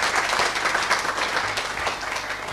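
A studio audience on a television programme applauds steadily as guests are welcomed onto the stage, a dense, continuous wash of clapping with no one speaking over it.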